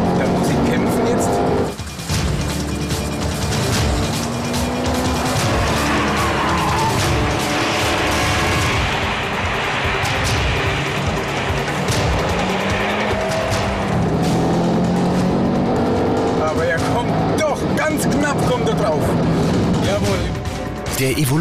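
A Mitsubishi Lancer Evolution accelerates hard in a race against an older Evo, its engine roaring loudly through short gears, with tire squeal and passing cars. Someone talks excitedly throughout.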